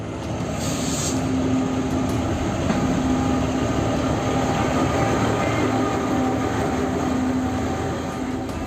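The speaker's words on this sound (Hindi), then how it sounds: "कालका शिमला रेलवे ट्रैक पर चलने वाली इस टॉय ट्रेन" The Kalka-Shimla toy train rolls along its mountain railway track with a continuous loud rumble and clatter of wheels and wagons, steady and close throughout the stretch with no talking.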